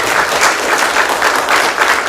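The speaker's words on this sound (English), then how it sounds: "let's give another big round of applause to Hyun-sung" Loud, dense applause from a university lecture audience for a speaker, continuous clapping with a gently pulsing intensity throughout.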